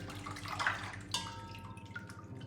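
Boiled hog maws strained in a kitchen sink, water splashing and dripping as the pieces are drained: a brief close watery pour followed by scattered drips, moderately loud with no talking.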